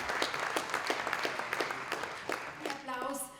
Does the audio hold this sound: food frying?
no